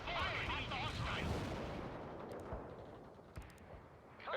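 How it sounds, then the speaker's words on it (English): A missile launch and gunfire in the World in Conflict real-time strategy game, heard as a loud rumbling blast that decays over several seconds, with faint sharp reports near the end and radio-style voices talking over it. "Fire the missile. Missile launching 84. At the hostile."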